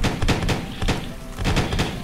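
Loud gunshots in the survival game Hurtworld: a quick series of about six shots fires in uneven bursts, each a punchy thump with a short tail.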